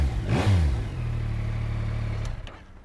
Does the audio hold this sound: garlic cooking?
no